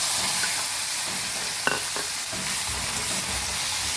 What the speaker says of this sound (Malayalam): ഒന്ന് വരട്ടി ഉള്ളി ഒന്ന് വേവിച്ചെടുക്കണം